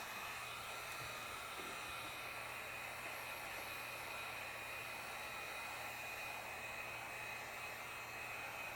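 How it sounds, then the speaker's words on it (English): A hair dryer heating a car's sound-deadening panel blows with a steady, even whooshing hum that holds unchanged throughout, with no voices. "Again, our heat gun or our hair dryer."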